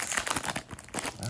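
Trading card pack wrappers from an MMA jumbo box crinkled and crumpled by hand, a loud, close, continuous rustling with quick crackling bursts and a short lull near the middle.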